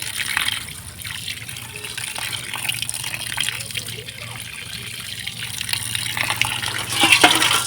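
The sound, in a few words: washing cut meat under running water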